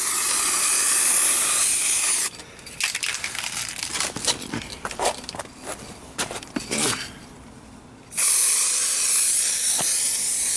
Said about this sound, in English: Just a light spray.